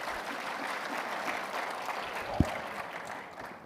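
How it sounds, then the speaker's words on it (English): Audience applause for the Minister of Education at the INGSA 2024 opening ceremony in Rwanda, a steady, fairly soft wash of clapping from a large hall crowd with no voices over it. "Another round of applause for the Minister of Education."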